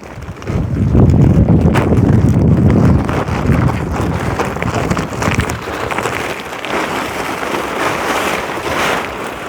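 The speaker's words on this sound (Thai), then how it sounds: "ลมมันพัดหูพัดตาแล้ว" Strong outdoor wind, with a storm approaching, batters the microphone in a loud, continuous low roar that peaks early and then eases slightly, with no voices.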